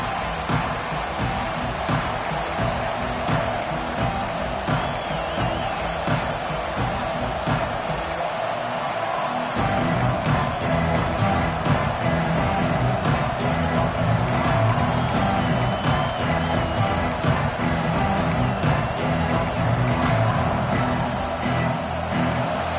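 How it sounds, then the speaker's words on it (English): A dense, steady roar of a large stadium crowd at an American football game fills the space throughout, swelling slightly partway through, with no clear individual voices. "Listen to the crowd energy here in the early going"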